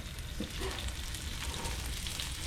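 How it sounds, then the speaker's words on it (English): Two snapper fillets searing in a hot pan, a steady low sizzle and hiss that runs continuously at quiet volume with no talking. "before we start our tacos, I'm going to sear two pieces"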